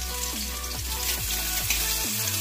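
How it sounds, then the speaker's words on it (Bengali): Onions frying in oil in a kadai for a Bengali egg and potato curry, a soft continuous sizzle beneath loud background music, with no voices. "পেঁয়াজটা ভেজে নিচ্ছি"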